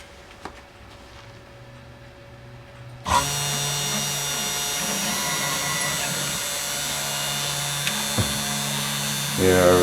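A 3018 CNC machine engraves aluminum. After a quiet stretch the spindle starts abruptly and holds a steady high whine with tonal bands, and the cut rises louder near the end.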